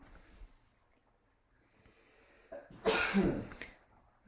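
A single sharp sneeze erupts nearby after quiet breathing and small noises, loud and abrupt, then fades quickly.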